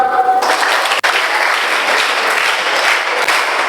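An audience claps together in a dense, continuous burst of applause, close and loud, after a brief voice at the start, at a cleanliness awareness magic show.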